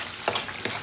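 Masala with turmeric, salt and spices stir-fried in a pan, a short burst of sizzle with two quick scraping strokes of a spoon.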